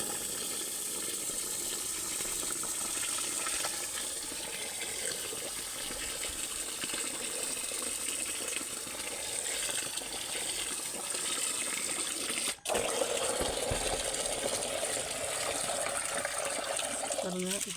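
Running water rinses soaked raw white rice (pachcharisi) for adhirasam in a home kitchen, a steady broadband gush continuing throughout with a brief break near the end.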